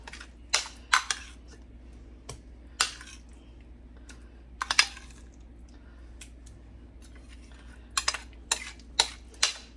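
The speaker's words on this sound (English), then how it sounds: "So I'm just gonna spoon this down and then I'll spread it." A spoon drops topping onto a pre-baked breakfast pizza crust and spreads it, making sharp, irregular clinks and taps against a quiet background.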